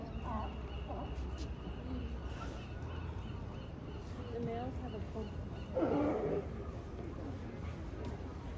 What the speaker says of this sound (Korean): 얘네들은 바다사자래요.